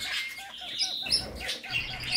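Female kakariki parakeet calls during courtship with soft, high chirps and short twittering notes, close and fairly quiet, repeated irregularly over a couple of seconds.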